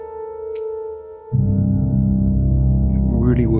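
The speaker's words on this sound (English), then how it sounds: "So there's that Hollywood trailer piano sound out of the box, which completely transforms the original sound." Piano played through Convolverb's Hollywood trailer reverb preset: a plain sustained note gives way to a deep, booming low-register chord swelling with huge washy reverb, loud and close.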